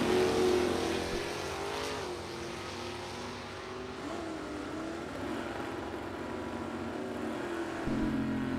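Drag race between a 1970 Buick GS running a 509 cubic inch big block Chevy and an AMC, engines droning at a distance with a wavering pitch that rises and falls, fairly faint and without talk.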